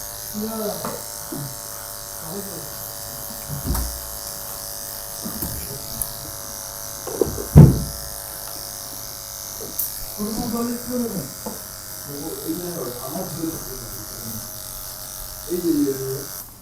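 A cordless hair clipper buzzes steadily through a zero fade haircut in a barber shop, with the motor running low on charge, while someone talks over it throughout.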